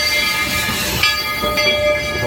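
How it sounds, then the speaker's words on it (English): The Walt Disney World Railroad train arrives with a sustained tonal horn blast over rolling wheel and rail noise, heard fairly close. "here comes the Walt Disney World Railroad"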